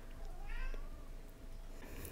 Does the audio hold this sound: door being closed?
no